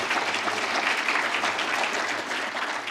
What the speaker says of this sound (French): On peut vous applaudir, évidemment.